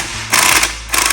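Bolts being loosened on the differential of a 1962 Dodge Dart, likely with a power tool. Two loud, close mechanical whirring bursts are separated by a short pause, over a low mechanical hum.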